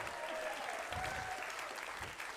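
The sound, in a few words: audience applause at a live comedy and magic show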